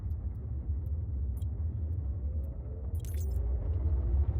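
A spaceship engine in Star Citizen gives off a deep, steady rumble that swells slightly toward the end, with a few faint clicks and jangles over it.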